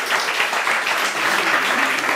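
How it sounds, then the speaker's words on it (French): A church congregation applauds newcomers to the service, a steady, fairly loud wash of many hands clapping that carries evenly through the whole stretch without any voices over it. "Est-ce qu'on peut applaudir les nouveaux aujourd'hui ?"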